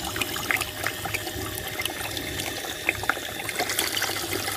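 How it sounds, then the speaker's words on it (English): A 12V 54W brushless DC water pump runs at maximum power, making a low, steady hum under splashing, trickling water. Small irregular drips and splashes come through here and there. "let's feel the noise of the pump at work"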